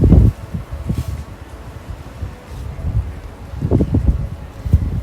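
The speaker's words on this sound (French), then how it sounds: "Il y a un peu de vent, donc je ne sais pas si vous allez comprendre." Outdoor wind buffets the microphone in uneven gusts, with low rumbling bursts that are loudest at the start and again near the end, plus faint rustling between them.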